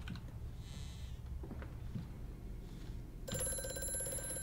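A telephone rings in the horror video game Amnesia: A Machine for Pigs, a bright electronic ring that starts near the end over a dim, rumbling room ambience.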